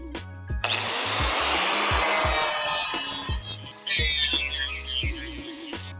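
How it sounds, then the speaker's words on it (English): Angle grinder fitted with a flap disc surface-grinding a steel Halligan bar, a loud sustained abrasive whine and grinding rasp with brief pauses and restarts, close up and with no talking. "right now we're actually just gonna do some actual surface grinding. So we'll use a flapper pad like this"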